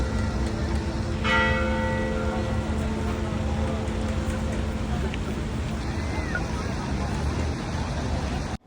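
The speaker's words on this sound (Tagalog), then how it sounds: "parang every hour nagre-ring bell siya" A church bell rings steadily through a colourful evening street scene on a tour of Armenia, its sustained tolling layered over crowd babble, traffic and a broad outdoor wash, with people talking nearby.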